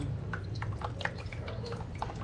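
Water drips quietly from the bottom of a plant pot filled with charcoal cubes and pumice after watering, a handful of small soft irregular drops and trickles, close and faint, with no talk.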